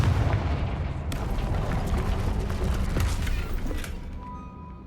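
Confringo blasting spells go off in Hogwarts Legacy as a quick run of loud booming explosions and bursts, one sharp blast standing out in the middle before the noise fades.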